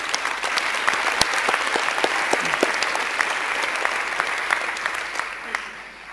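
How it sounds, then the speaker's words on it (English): Sustained, full applause from a conference audience at a sports science awards ceremony, honouring the chair of the scientific board, with many hands clapping evenly and close, easing slightly toward the end. "please could we give a round of applause to our chair of the scientific board, Professor Fleming Della"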